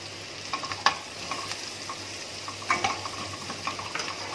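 Carrots tossed into vegetables and tomato cooking in a pan for a carrot tomato soup; a soft, steady sizzle runs under intermittent spoon scrapes and light clinks, with no one talking.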